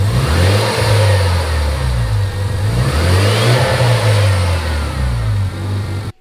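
A Mazda RX-7 FD rotary engine revs loudly and close by in repeated rising and falling bursts over a rough idle, with no talking.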